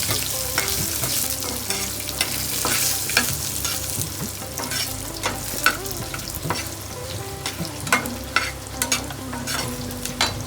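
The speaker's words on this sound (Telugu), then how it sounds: "ఎండుమిర్చిని కొద్దిగా బాగా వేయనివ్వాలి, లేకపోతే పచ్చి వాసన వస్తుంది" Dried red chillies frying in hot oil alongside cumin for a spicy bitter gourd chutney, a steady close sizzle broken by frequent sharp spatters and the clink of stirring, with no voices.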